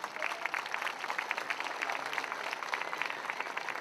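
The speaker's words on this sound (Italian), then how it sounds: "Vi chiedo un grande applauso" An audience applauds ten beauty pageant contestants at a Bella di Marca event in Conegliano, a steady, dense crackle of many hands clapping at moderate distance, sustained throughout.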